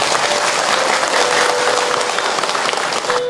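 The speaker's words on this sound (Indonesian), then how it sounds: "Tepuk tangan buat ibu-ibu semua." Steady, loud applause from a crowd of women at an Islamic sermon, clapping continuously without a break and no talking over it.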